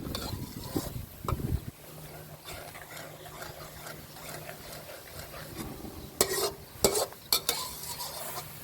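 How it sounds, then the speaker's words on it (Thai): Sweet-sour-spicy sauce for tilapia bubbling and sizzling steadily in a pan, with occasional clinks of a utensil stirring near the end. "เสร็จแล้วก็เคี่ยวต่ออีกสักพักหนึ่งนะครับ"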